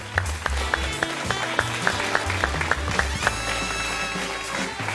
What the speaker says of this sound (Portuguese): Vamos aplaudir esse nosso caríssimo Ricardo Bellino!